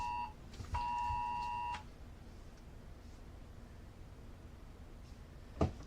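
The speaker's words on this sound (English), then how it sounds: "looks like we have a Amber Alert. Everybody probably got the notification on your phones." An Amber Alert emergency tone sounding on phones during a night weather update, a short beep followed by a loud sustained electronic tone of about a second, with quiet room noise and a sharp knock afterward.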